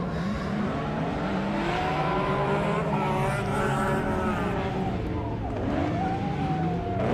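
A drift car powering through a corner during a drifting competition, its engine droning loud and steady with rising and falling revs and tire noise, continuous and close throughout.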